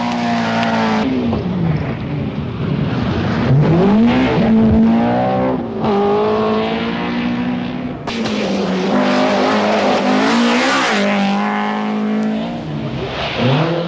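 A Talbot Sunbeam Lotus rally car driven by Henri Toivonen on a rally stage, its engine roaring loud and close, revving up and down through gear changes with rising and falling pitch and no talk over it.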